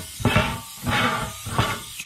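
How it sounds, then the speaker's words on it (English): Three short hissing bursts of cooking oil spray hit a bread loaf tin, close and crisp, with brief pauses between each spray. "With my bread loaf tin, I'm going to spray it with oil"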